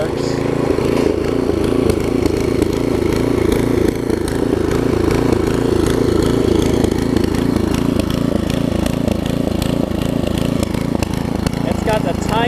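A Craftsman tiller with a 5 hp Briggs & Stratton engine runs steadily in reverse, a loud, continuous low chugging drone that stays close and even throughout, with voices speaking faintly under the engine noise.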